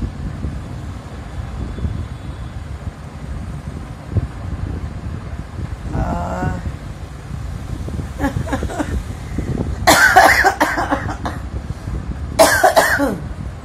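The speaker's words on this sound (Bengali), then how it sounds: "এখনো কাশি আছে, চিন্তা করো, হালকা" Two or three short bursts of coughing stand out near the end over steady wind-like background noise, with a fainter throat sound a little earlier.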